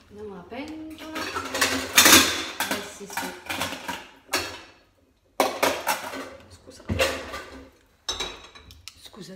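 Cooking pot and metal utensils clatter in a home kitchen while potatoes, tomatoes, onion and oil are prepared, with bursts of clanking and scraping in uneven clusters, loud and close, and speech mixed in between.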